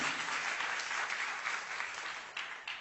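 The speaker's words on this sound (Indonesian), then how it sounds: "Tepuk tangan yang meriah untuk kemuliaan Tuhan" Lively congregational applause during a church sermon, a steady, even wash of many hands clapping that holds for the whole span with slight swells.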